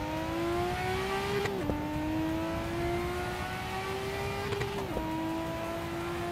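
A Nissan Skyline GT-R R34 in Assetto Corsa drives with a steady engine whine that climbs as the turbo builds. Two quick gear shifts cut it briefly before the tone rises again.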